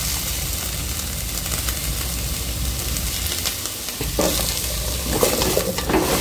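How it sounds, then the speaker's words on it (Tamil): Brinjal, tomato and small shallots sauté in a pan for Tirunelveli sambar, a loud continuous sizzle with the texture shifting as a spatula stirs and scrapes near the end. "நல்லா வதக்கிக்கலாம்."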